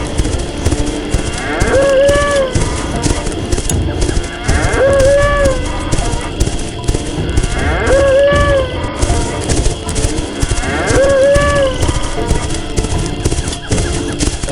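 A buffalo in an animated folk tale lets out four evenly spaced moos over a loud, busy background of running hooves and music.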